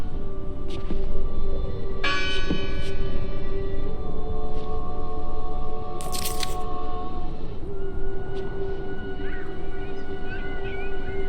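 A church bell in the video game Draugen rings with a metallic strike and long, ringing overtones that fade slowly over a dense, rumbling ambient bed, with a few more faint chimes and no speech.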